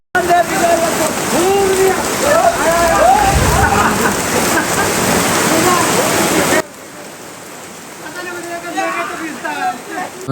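Heavy rain pouring down near a village pond, a loud steady hiss that drops away suddenly partway through, with people talking over it.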